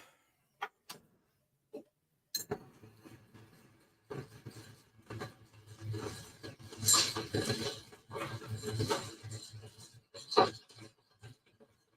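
Drink being stirred with ice: a few sharp isolated clinks give way to a stretch of irregular rattling and scraping of ice cubes against a glass, close and fairly quiet, with a final bright clink.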